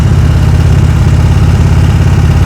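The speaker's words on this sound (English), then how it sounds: "his engine is doing that because his throttle's too low" A motorcycle engine runs with the throttle set too low during slow-speed riding practice, a loud, steady, low rumbling chug with rapid even pulses and no talk.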